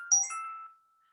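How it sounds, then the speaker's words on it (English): A phone notification ping goes off during an online scent-work class: one brief, clear electronic chime with a couple of bright tones that fades out within a second, heard alone. "Did you hear a ping or something?"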